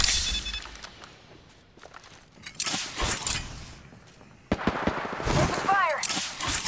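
Close-range gunfire in the video game Apex Legends: bursts of loud, sharp shots in uneven clusters, with a quieter gap between volleys, mixed with other game effects.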